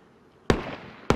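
Two sharp grenade blasts in the DayZ video game, a loud burst then a second one about half a second later, each with a short decaying tail.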